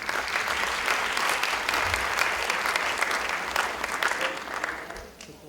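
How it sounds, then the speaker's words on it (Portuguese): Sustained audience applause fills a round-table panel on cultural networks as the academic panelists take their seats, a steady dense clapping that holds throughout before tapering off at the end. "Uma salva de palmas."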